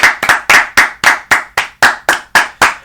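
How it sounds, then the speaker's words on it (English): A round of applause for the 107-win San Francisco Giants, heard as a small group's loud, evenly spaced claps, about a dozen sharp hits in steady rhythm, close and alone without talk. "Round of applause for the 107 win Giants."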